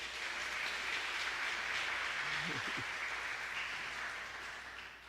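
A church congregation applauds steadily, dense clapping filling the space at a moderate distance for the whole stretch, fading slightly toward the end.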